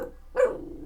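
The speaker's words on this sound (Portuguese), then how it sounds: "deixa eu segurar esse cachorro e botar ele pra fora." A single short, gruff dog bark sounds close by indoors, a brief low woof over quiet background hum.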